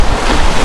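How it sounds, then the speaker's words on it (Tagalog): Rough winter sea surf breaking along the shoreline, a loud, continuous roar of waves with some wind buffeting the microphone, close and with no voices. "Hindi naman malakas yung hangin, yung alon lang."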